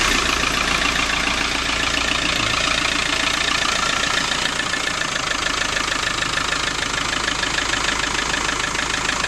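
An old Renault 11 engine running after being started, a steady rough idle with a rattling, knocking texture, loud and close, continuous with no talk.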